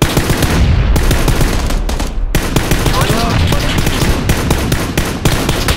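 Rapid automatic gunfire rattles in loud, dense bursts during a PUBG match, with a short pause before the shots resume in quick succession.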